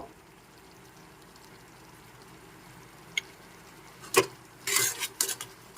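Half a teaspoon of sugar stirred into a little water in a pan, a quiet stretch followed by several close, bright clinks and scrapes of a spoon against the pan.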